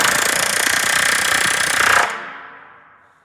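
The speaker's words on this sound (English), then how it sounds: "We're going to go ahead and buck this rivet and show you what happens." A pneumatic rivet gun bucking a small rivet, firing a rapid, loud, continuous rattling burst for about two seconds before stopping abruptly and leaving a brief ringing decay.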